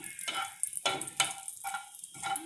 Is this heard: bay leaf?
yes